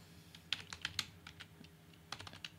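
Keyboard typing in short bursts of crisp clicks, moderately close and fairly quiet, with a pause in the middle before another quick flurry of keystrokes.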